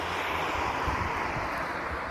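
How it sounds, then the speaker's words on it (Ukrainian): Steady, cold wind buffets the microphone in a constant rushing roar, loud and unbroken throughout, outdoors in the Netherlands. "Но вітер такий е, морозний."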